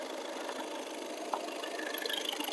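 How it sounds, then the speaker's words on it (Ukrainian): A diesel car engine, a Renault Kangoo 1.5 dCi or Skoda Octavia 1.6 TDI, idles steadily with an even, low mechanical hum and a slight rhythmic pulse, close by and without voices. "Двигун працює рівненько, чистенько, без провалів"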